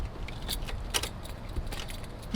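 Keys jangle in the ignition of a custom car with a dead battery during a failed start attempt, giving a few bright metallic rattles over a low rumbling background, with no talking and no engine catching.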